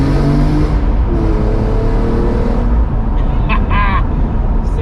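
A BMW E46 M3 CSL revs loudly and steadily under close, rough engine roar, with a voice speaking over part of it near the end.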